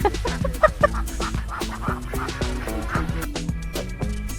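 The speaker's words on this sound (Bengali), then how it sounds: "কত হাঁস এখানে" Ducks at a farmstay pond in Bhagabatipur call in repeated short nasal quacks and clucks, several birds overlapping at moderate distance.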